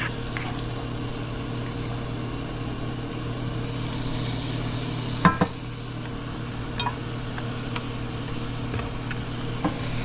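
Garlic sautéing in a pan for stuffed bitter melon (karela), a steady low sizzle and bubbling hiss with an occasional stir or clink of a utensil, close and continuous with no talking.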